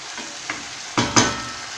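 Chicken and chopped tomato fry in a pan with a constant hiss of sizzling, broken by a few sharper crackles and bursts as pieces are stirred.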